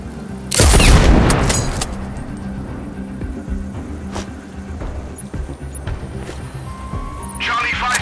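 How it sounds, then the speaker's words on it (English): Explosion and gunfire in the video game Sniper Ghost Warrior Contracts 2: a loud blast bursts out near the start and decays over a second, followed by sporadic distant shots and a low game ambience, with radio-style voices talking throughout. "We had an explosion at our 20."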